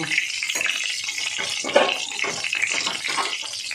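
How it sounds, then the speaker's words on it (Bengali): Soybean chunks coated in salt, turmeric and chilli frying in hot oil, a dense steady sizzle and bubbling close up, with no voices. "এই তেলের মধ্যেই আমি সয়াবিনগুলো ভেজে নেব।"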